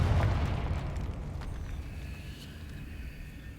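A Confringo blasting spell explodes in Hogwarts Legacy, a single deep, booming blast that hits at once and then rumbles away into a fading tail.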